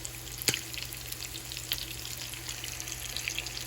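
Oil sizzles and crackles steadily in a pan as breaded chicken fries, a constant hissing fry with a few sharper pops.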